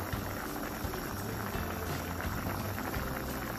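A pot of Haitian beef ragout bubbles and simmers after water is added, a close, steady crackle of boiling liquid with no voices.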